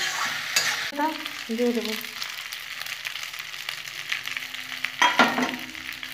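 Pasta ingredients frying and being stirred in a pan, with a soft sizzle under several scraping stirs and a few clattering strokes. A voice speaks briefly.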